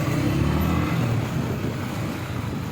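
A manual-transmission car drives along, a loud steady engine drone up close with a low rumble that eases slightly, without speech.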